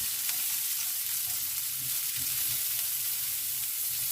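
Vegetables sizzle steadily in a frying pan while a warm salad of eggplant and chicken fillet is being cooked. The crackle is close, even and unbroken, with faint stirring and no voices.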